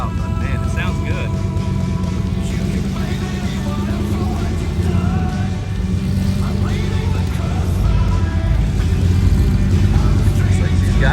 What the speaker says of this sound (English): Cassie's muffler is gone, so she is wheeling the most loud, straight piped rig. It is loud, but man, it sounds good.